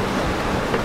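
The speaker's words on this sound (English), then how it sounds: "these waves are just, every once in a while one will break on top of the boat or one will hit underneath the boat and just slam it" Steady, loud rushing of ocean waves and wind against a catamaran sailing fast at sea, a continuous wash of water noise with no voices.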